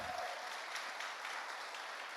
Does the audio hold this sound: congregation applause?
yes